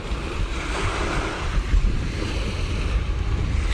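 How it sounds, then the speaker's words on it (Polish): Steady rush of surf rolling and breaking, with wind buffeting the microphone throughout; no voices, a continuous wash of sea noise. "wsłuchując się w szum morza"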